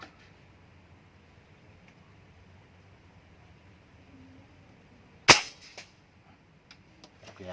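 A single sharp air rifle shot firing a slug with a scope cracks out of a quiet background, followed by faint clicks and handling noise.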